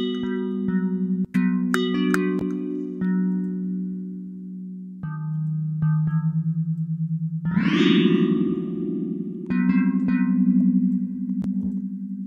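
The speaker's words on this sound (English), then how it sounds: "There's a lot of resonating and reverb on here." Sustained electronic tones from a beat made in Cakewalk ring with a heavy resonant, echoing reverb, shifting pitch in steps, punctuated by sharp clicks, with no voices.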